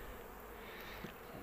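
Honeybees from hives brought home from the field fly busily around a beekeeper, giving a faint, steady buzzing drone with no voices over it.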